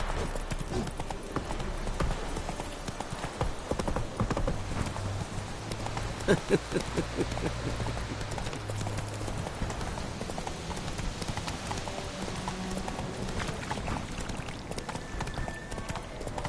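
Horse hooves clip-clop steadily in The Witcher 3 video game, a continuous rhythmic trot of the horse Roach over ambient rain, with brief faint talk.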